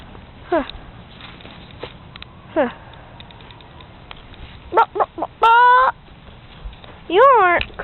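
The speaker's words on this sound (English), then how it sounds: "There's the hen" Chickens cluck and a hen calls in a farmyard, with scattered short clucks early and then louder, closer bursts of squawking and drawn-out cackles near the end.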